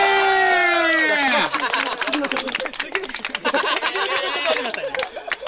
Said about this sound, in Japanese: 見た人の 大きな拍手を。